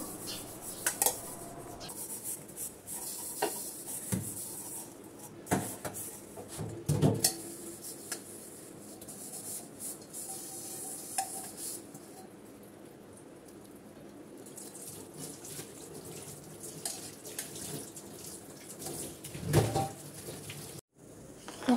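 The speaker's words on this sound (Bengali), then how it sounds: "এখন আমি বলগুলো দুটো ধুয়ে নেব" Two bowls washed under a running kitchen tap, with clinks and knocks of dishes against the sink over a soft stream of water, the clatter scattered and close with quieter stretches between.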